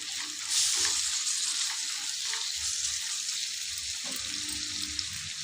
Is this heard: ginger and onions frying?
yes